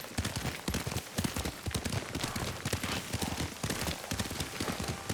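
Horse hooves while riding in the video game Ghost of Tsushima, a quick, steady clip-clop of galloping beats, close and continuous throughout, with no voices.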